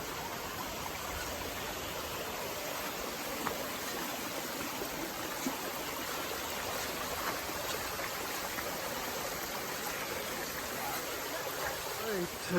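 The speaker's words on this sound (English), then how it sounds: "we're trying to find the secret waterfall." Waterfall and stream on the Juan de Fuca Trail on Vancouver Island, a steady broadband rush of flowing water that stays constant throughout, with no voices over it.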